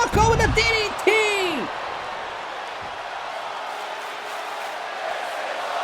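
Crowd in a sold-out arena at a wrestling video game event, a broad sustained roar of cheering after a short burst of shouting voices at the start, steady and fairly loud, then fading to a continuous wash.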